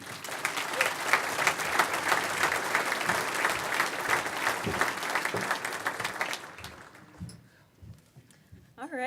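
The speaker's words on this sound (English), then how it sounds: "Let's have a nice round of applause for Val Jeffrey." A banquet crowd applauds a scholarship recipient with steady, fairly loud clapping that fades out after about six seconds, followed by a quiet pause and the start of a voice speaking.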